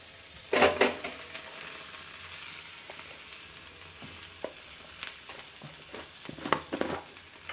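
Potatoes (aloo fry) sizzle softly in a pan, with occasional scraping and stirring clatters of a utensil against the pan, close and fairly quiet.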